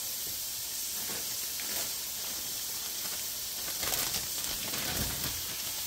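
Sausage sizzles steadily in a hot pan, a dense, even hiss with small crackles and no talking throughout.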